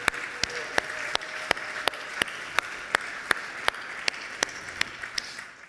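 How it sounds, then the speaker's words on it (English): Awards-ceremony audience applauding the judging panel, a steady sustained patter with regular sharp claps standing out, fading at the very end. "The first round of applause of the awards is to thank the judging panel"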